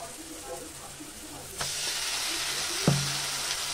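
Onion fries in a pan with salt, turmeric and Kashmiri chilli powder added for a fish dish, giving a steady, fairly loud sizzle and hiss that jumps in intensity partway through, with a stirring clank.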